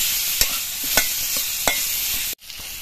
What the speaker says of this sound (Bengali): এদিকে ফোড়নটা ভাজা হয়ে যাওয়ার পর এর মধ্যে আমড়াগুলোকে দিয়ে দিচ্ছি।